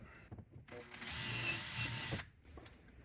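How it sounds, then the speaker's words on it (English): An offset drill runs in a steady burst for about a second, whirring and ratcheting close by, while holes in a powder-coated elevator control tube for a RANS S-21 aircraft are opened up; brief clicks and handling noise come before and after. "I have used this offset drill so much."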